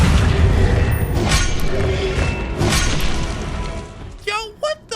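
Accio spell cast in the video game Hogwarts Legacy: a loud booming, crashing magical burst with rushing noise, fading into quieter game sounds, then a few short chirping tonal blips at the end.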